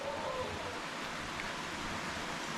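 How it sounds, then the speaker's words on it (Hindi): Steady broadband rush of a waterfall at Laki Shah Saddar in the Kheerthar Mountains, a continuous dense wash of falling water that fills the scene evenly with no breaks and no voices. "ये है वो झरना, वो आबशार"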